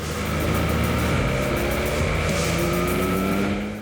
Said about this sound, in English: Just watch the engine do its magic with the shift cam technology.